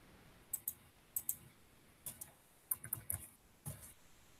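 A computer mouse clicks crisply in quick pairs and single taps while working in drafting software, the sharp close clicks scattered over a few seconds against a quiet room.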